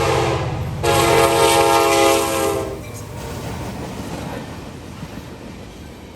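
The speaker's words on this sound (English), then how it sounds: "M351 is daily manifest with a stop to work in Garrett, Indiana, up on the CSX Garrett sub." CSX M351 manifest freight train on the Garrett sub passes close by, a loud horn blast sounding over the rumble of the cars, then the steady roll and rattle of wagons fading lower.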